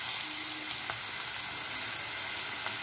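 Finely chopped onions and green chillies fry in hot oil, making a constant close crackling sizzle with faint pops throughout.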